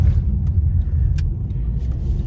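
Car driving along a city road in Kemerovo, Russia, on a summer road trip from Yakutsk to Altai, heard from inside as a steady low engine and road rumble with no speech.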